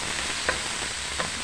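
Tomatoes fry in a pan with a loud, continuous sizzle, broken by two brief scraping stirs, and no voices are heard.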